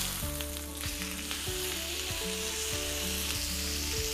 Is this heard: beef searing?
yes